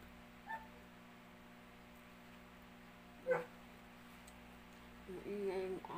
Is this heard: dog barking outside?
yes